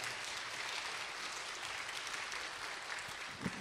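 An audience in a church applauds the superintendent of education after his talk, a steady, even wash of clapping held at a fairly faint, distant level throughout, with no voices over it.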